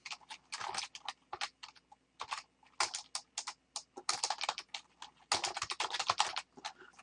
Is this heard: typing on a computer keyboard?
yes